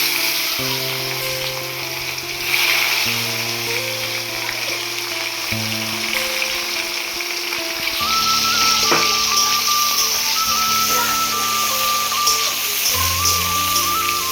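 Onions and chillies fry in a generous amount of hot oil for a chicken curry, giving a steady bright sizzle with crackles throughout under background music.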